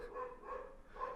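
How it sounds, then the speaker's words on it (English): A dog barks and yips several times in quick succession, fairly close but not loud, with no talking over it. "Apologies for the dog barking."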